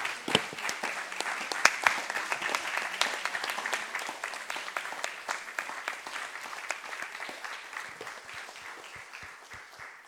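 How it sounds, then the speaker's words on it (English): An audience applauds a parent panel at a conference on Argonaute syndromes, with brisk, sustained clapping that slowly thins toward the end, fairly close and fairly faint. "Big applause."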